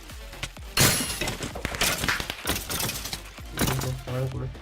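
A firework party drop goes off in a Minecraft-style game as a rapid string of loud cracks, pops and crackling bursts, close and irregular, with a few brief tonal game sounds in between.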